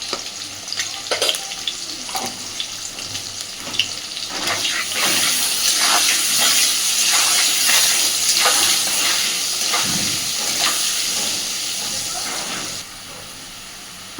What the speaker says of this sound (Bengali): আলুগুলো খুব সুন্দরভাবে ভেজে নিয়েছি